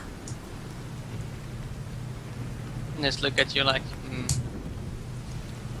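Rain and thunder ambience plays during a tabletop role-playing game session: a steady wash of rainfall with a low rumble underneath, running beneath people talking at the table.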